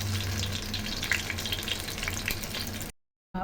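Sankara fish coated in masala fries in hot oil, a close, steady crackling sizzle that runs continuously before cutting off abruptly.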